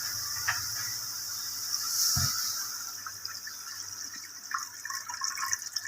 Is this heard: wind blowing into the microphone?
no